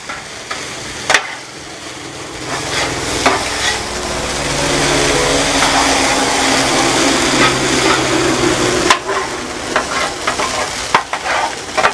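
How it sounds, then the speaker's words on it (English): Fried rice sizzles as it browns in a hot pan, a loud continuous frying hiss broken by repeated scraping stirs of the spatula, with no talking. "You want to make sure all your rice is hitting that heat, because you want to get a kind of a crust on it and for it to brown a little bit."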